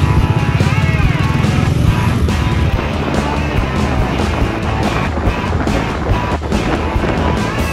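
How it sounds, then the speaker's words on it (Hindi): Motorcycles on a group breakfast riders' rally in Udaipur, a loud engine drone with revving and passing machines, steady rumble throughout with shifting pitch as bikes accelerate nearby. "चलो finally it's time to ride the bike"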